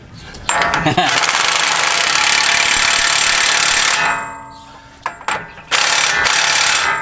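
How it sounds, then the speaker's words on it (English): A ratchet tightens the new CV axle nut on a 2017 Toyota Tacoma in loud, rapid clicking bursts. The clicking stops for about a second and then starts again in short runs. "Putting the new axle nut on."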